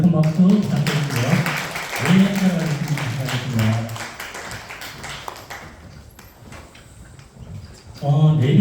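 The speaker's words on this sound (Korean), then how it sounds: "정말 선생님이 주신 이분들에게 다시 한번 큰 박수 부탁드리고요." Clapping from the audience at a 2023 report meeting on disability welfare budgets in Gyeongsangnam-do: scattered claps under a man's amplified speech, with the voice briefly falling away before talking resumes.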